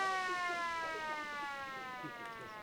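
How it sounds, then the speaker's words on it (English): A long, steady siren sounds at an under-15 Australian rules football match to end the first quarter, a sustained tone heard at a distance over a faint crowd murmur. "a siren goes to end the first quarter"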